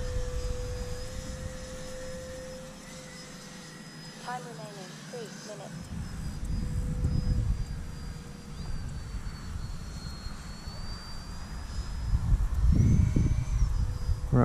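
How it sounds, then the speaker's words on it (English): An E-flite Habu radio-controlled jet flies inverted past, its steady high-pitched ducted-fan whine holding throughout against wind noise and low rumble, with a louder swell near the end as it comes closer. "There's a little bit of inverted flight for you."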